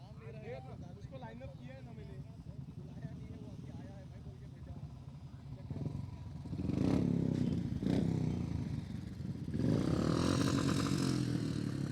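Dirt track motorcycles of 350cc lining up for a novice men's final, engines idling and revving in the distance and growing louder near the end, with an announcer talking over them throughout.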